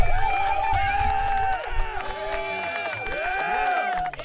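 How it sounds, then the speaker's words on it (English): An applause sound effect plays during a live crypto stream. Crowd cheering and clapping are mixed with whoops and sliding tonal effects, fairly loud throughout the few seconds. "Dave, you get the clap again."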